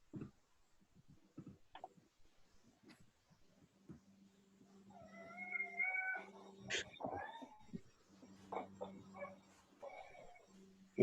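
A house cat meows several times in a drawn-out, wavering call, fairly close but quiet, with soft rustles and bumps scattered around it.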